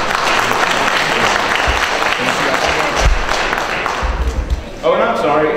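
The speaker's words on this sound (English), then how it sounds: "please give him a round of applause" Applause from a crowd at a public forum on a new Falcons stadium fills the room, sustained clapping with a voice speaking faintly beneath it.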